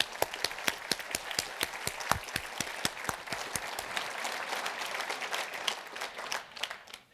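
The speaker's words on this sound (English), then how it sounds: "Please join me in a round of applause for West Michigan's finest." Audience applause at a talk on artificial intelligence, fairly quiet, starting with distinct sharp individual claps that thicken into a continuous patter and taper off at the end.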